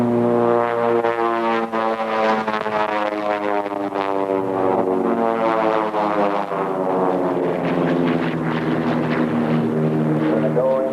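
A propeller airplane flying in at a 1987 air show, its loud droning engine holding steady and close with a slowly shifting pitch throughout.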